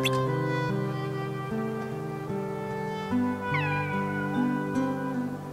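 Cat meowing in the Kingdom Hearts video game, a few drawn-out meows over a looping melodic game soundtrack.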